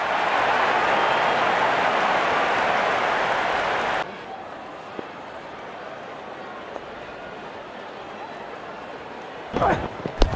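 A crowd cheers and applauds a six in the RC24 cricket video game during a Gujarat Titans versus Mumbai Indians match, a dense loud wash for about four seconds that cuts off abruptly, leaving quiet room tone and a brief burst near the end.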